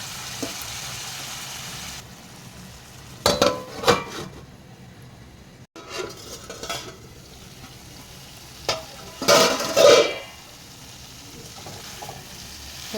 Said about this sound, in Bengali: মশলাটাকে আমি ভালো করে কষাবো আর মশলাটা আমি ঢাকন দিয়ে দিয়ে কষাবো